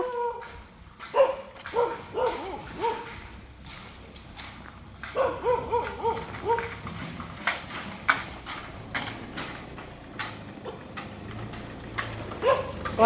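A dog barks repeatedly at a moderate distance, in irregular bursts, with some whining and yips between the barks.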